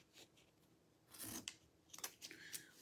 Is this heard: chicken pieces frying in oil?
no